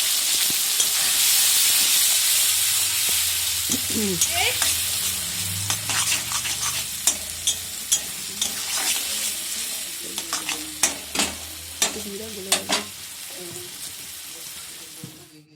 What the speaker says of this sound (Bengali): এবার এটাকে খুব ভালো করে ভেজে নেবো, একদম শুকনো করে।